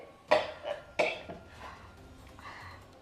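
Two sharp coughs close by, about a second apart, followed by fainter throat sounds and breathing in a quiet room.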